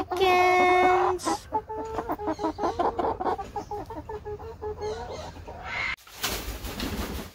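Chickens cluck and squawk in quick, uneven bursts, fairly close and loud, with one longer drawn-out call at the start and a brief rustling gap near the end.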